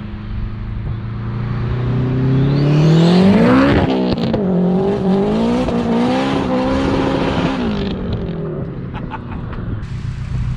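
A 500 bhp turbocharged Honda Civic Type R EP3 drives past, its engine note climbing through revs, peaking loudly, then easing off and fading as it moves away, with a brief whoosh of turbo and tire noise.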